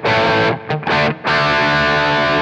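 Electric guitar played through a Taurus SH8 QUBE amp with coarse, tweed-style overdrive and heavy bass, loud sustained distorted chords with a couple of brief choked gaps before ringing out again.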